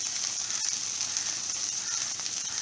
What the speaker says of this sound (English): frying this okra